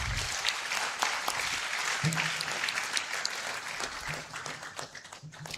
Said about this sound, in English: Can we give him a resounding applause?